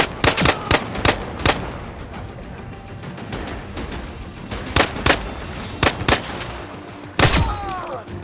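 Gunfire from a weapon in the VR video game Zero Caliber Reloaded, heard as sharp, loud single shots and short bursts with gaps between them, including a cluster near the start and another toward the end.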